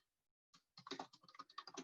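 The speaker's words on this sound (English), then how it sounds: "excuse my terrible typing." Quick, uneven keystrokes clatter on a computer keyboard after a short silence, close and fairly quiet.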